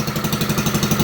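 The engine of a 1964 Lincoln Weldanpower 150 welder idles with a loud, close, rhythmic chugging pulse, steady and uneven like a small single-cylinder motor, with no voices.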